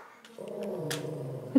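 Dog growling indoors at home: a low, steady rumbling growl lasting about a second, close and moderately loud, ending with a brief whimper-like sound.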